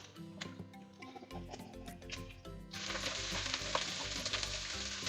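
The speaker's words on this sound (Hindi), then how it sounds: "बस हल्का सा हमें वेजिटेबल्स को फ्राई करना है" Vegetables sizzle lightly in a pan, with a steady frying hiss that grows louder and fuller partway through, broken by scattered ticks and clinks of stirring.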